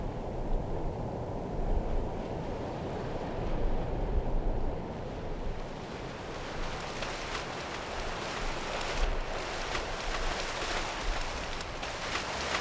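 Ocean waves in a virtual swimming environment form a continuous rushing wash that swells slightly and then settles into steady surf noise, alone and moderately loud.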